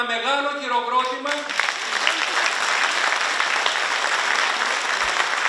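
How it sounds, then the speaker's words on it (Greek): At a Greek church event, a speaker's voice gives way to a big round of audience applause for the parish choirs, a dense, steady hall-wide clapping that carries on to the end. "Σας παρακαλώ λοιπόν ένα μεγάλο χειροκρότημα"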